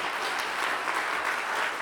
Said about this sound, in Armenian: եկեք եւս մեկ անգամ ծափարենք Աստծուն այս հրաշալի պրոյեկտի համար